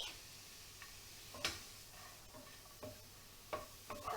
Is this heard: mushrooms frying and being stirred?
yes